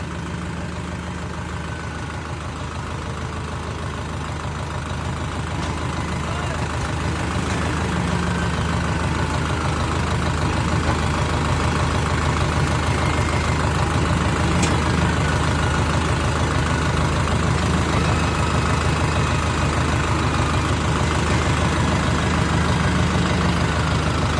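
A John Deere 5210 tractor with a trailer sits idling, its engine a steady, loud, unchanging rumble with broadband mechanical noise throughout and no voices.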